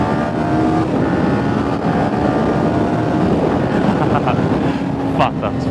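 Kawasaki Ninja 400 motorcycle accelerating under gradually applied throttle, a steady loud engine drone with heavy wind buffeting across the whole stretch, no talking.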